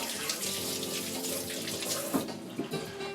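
Hands being rinsed under a running kitchen tap while making crab cakes, a steady close rush of water splashing into a sink with a few brief splashy changes near the end.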